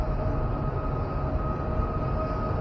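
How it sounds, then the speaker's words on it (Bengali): An Afrosiyob express train pulls out of an Uzbek station platform on the Samarkand to Bukhara line, giving a steady, close rumble of rolling wheels and carriages that holds even throughout, with no voices. "এই ট্রেনটা এখন বেরিয়ে যাচ্ছে।"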